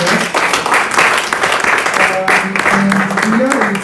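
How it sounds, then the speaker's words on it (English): Group applause at the close of a dyslexia awareness gathering, a dense run of clapping from a room of people with a few voices murmuring under it. "A round of applause for all of us."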